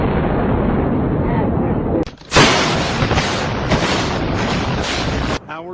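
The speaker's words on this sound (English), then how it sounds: "many smaller explosions rumbled through downtown" Explosions rumbling through downtown Manhattan after the 9/11 attack: a sustained low roar, then a sudden loud boom and crackling blast that rolls on for several seconds before cutting off.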